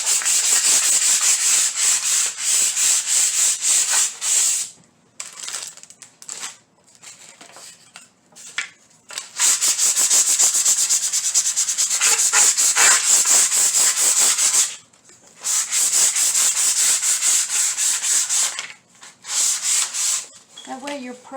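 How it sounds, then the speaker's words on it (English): Sandpaper worked by hand across the back of a wooden piece in strokes, a loud continuous scratchy rubbing that stops briefly several times before resuming, close by and alone. "Now just run your sandpaper over the entire back."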